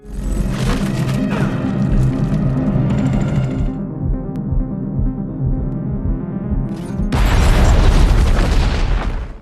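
A deep, booming film explosion rumbles through dense low noise, fading for a few seconds before a second roaring burst swells loudly near the end.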